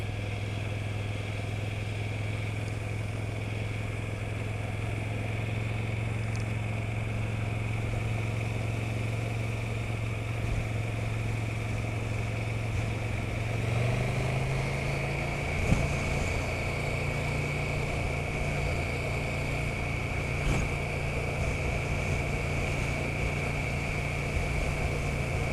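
A 2020 KTM 1290 Super Duke GT on the move holds a steady engine drone that climbs in pitch partway through as it accelerates, wrapped in constant wind rush and road noise.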